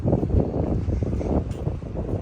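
Strong gusting wind roars and buffets the microphone continuously, a dense low rumble with no voices.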